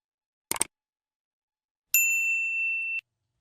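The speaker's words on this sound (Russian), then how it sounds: "Вот, включила микрофоны." Two Maono Wave T5 wireless lavalier microphones switching on: a brief clattering blip followed by a clear, sustained electronic chime tone lasting about a second, then silence.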